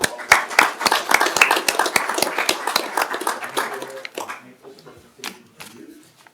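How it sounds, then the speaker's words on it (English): Applause breaks out at a city council meeting as a local literacy community group is recognized: a modest crowd claps briskly, the individual claps clearly separate, then it thins out to a few scattered claps and faint murmuring. "Let's give a round of applause for the Permian Basin Literacy Community."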